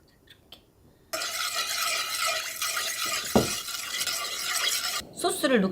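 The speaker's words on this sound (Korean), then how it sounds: "설탕도 녹아야 되고 물엿도 녹아야 되고 다 그래요. 기포가 크다는 거는 수분이 많다는 얘기예요" A sauce of sugar and corn syrup for seaweed dishes bubbles in a pan while a utensil stirs it, giving a close, continuous sizzling, bubbling hiss with stirring scrapes, preceded by a moment of near quiet.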